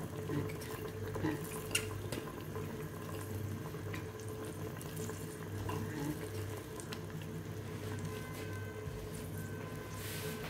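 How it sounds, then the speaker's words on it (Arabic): Tap water runs in a steady, low, fairly quiet stream into a cooking pot of artichoke and fennel white stew, with faint kitchen clatter around it. "نديرو شويه ماء"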